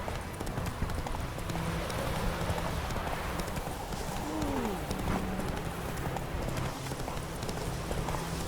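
Hoofbeats of Roach, a horse in The Witcher 3 game, clopping in a steady rhythm at moderate distance over a constant ambient bed, with a brief swooping tonal sound midway.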